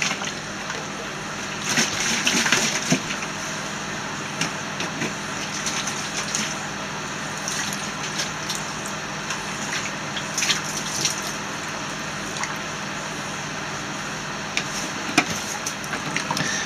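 Running distilled water rinses accessories used for making colloidal silver, a steady close gush of flowing water with brief splashing swells, alone with no talk.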